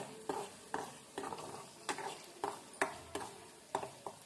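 Chicken pickle masala frying in a pan while being stirred, with a soft steady sizzle and regular, roughly evenly spaced scraping strokes of the spoon about twice a second, close and quiet.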